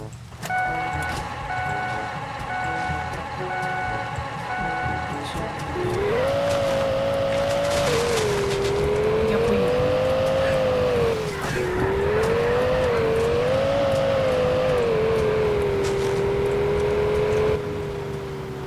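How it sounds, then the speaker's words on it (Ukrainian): A car engine in a video game drones steadily after a brief quieter stretch, rising and falling in pitch as the vehicle accelerates and shifts, loud and continuous with no talk over it. "я сяду в його машину і поїду"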